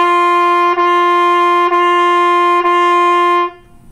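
Four sustained legato notes on a single pitch are played on a brass or wind instrument, each joined to the next with only a slight dip between them, steady and clear. The last note ends abruptly into near silence.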